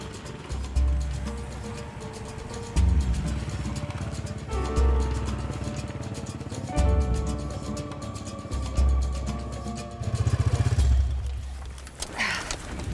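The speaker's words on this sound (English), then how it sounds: "There's plenty of noisy traffic here" Busy street traffic with motorcycle engines revving and passing close by, repeated loud surges over a constant urban roar.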